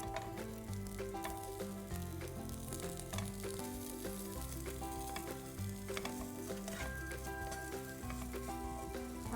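Cubed potatoes frying with coriander powder, salt and spices in a pan, a steady close sizzle running throughout with occasional stirring scrapes, no voices over it.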